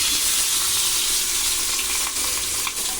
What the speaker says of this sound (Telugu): ఈరోజు ఫిష్ ఫ్రై చేసుకుందాం